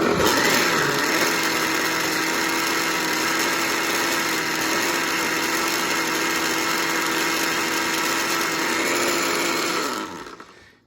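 A countertop blender runs steadily on salsa, a loud continuous motor whir with a faint churning of the chunky mix, before spinning down and cutting off at the very end.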